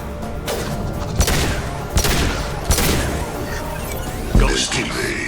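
Gunfire bursts in a Mass Effect 2 firefight: several sharp, loud shots ring out at irregular intervals over a busy background of combat noise, ending with a heavier blast.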